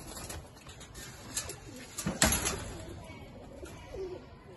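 Teddy pigeons coo softly and repeatedly nearby, low throaty calls with a brief rustle in a bird keeper's loft.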